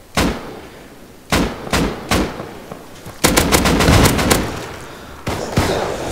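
Video game gunfire from a multiplayer shooter, with loud single shots and bursts of rapid automatic fire spread across several seconds, heard alone without talk.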